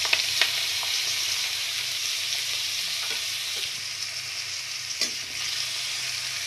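Onions with grated garlic and ginger paste fry in a pan for a mushroom and pea curry, giving a bright continuous sizzle broken by a few light spatula taps and scrapes, close and without speech.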